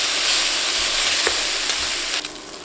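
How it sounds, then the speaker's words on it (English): Bacon frying in a pan for corn chowder, a dense, even sizzle and crackle that stays loud and close for the whole stretch, with no talking. "go ahead and cook this bacon until it becomes somewhat crispy"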